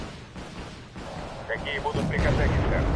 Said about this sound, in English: Oh, here comes the rockets again.